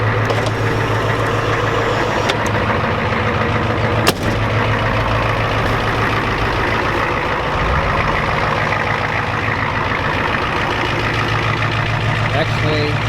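A Ford F-250 with a 7.3 IDI diesel engine idles steadily while warming up, a continuous low rumbling drone close by with one brief sharp knock partway through.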